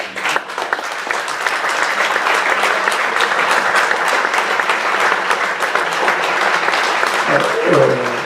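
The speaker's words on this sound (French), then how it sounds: "S'ils peuvent se lever et qu'on les applaudisse" Loud, close applause fills a club general assembly room as the U19 players stand, with dense, continuous clapping and a voice briefly speaking near the end.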